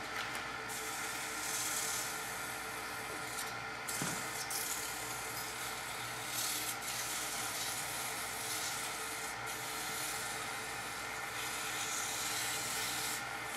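Sanding a turned wooden Christmas ornament with 320 grit sandpaper gives a soft, steady rubbing hiss up close, continuous for the whole stretch with a few brief breaks.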